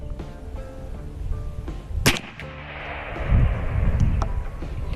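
A .50 caliber PCP air rifle fires a 185 grain slug, one sharp loud crack about midway, followed by a rushing release of air and lingering outdoor noise.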